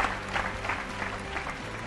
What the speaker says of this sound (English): Please bring them out with a round of applause.